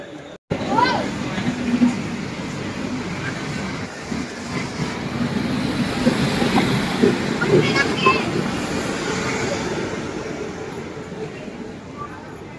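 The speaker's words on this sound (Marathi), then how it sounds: "आमची ट्रेन चालू झाली आहे. ट्रेन आले आता, चालू झाली आहे ट्रेन." Jan Shatabdi express train running out of Dadar toward Chiplun, heard from inside a crowded coach as a steady rumbling roar with faint rattles, under a constant babble of passengers talking.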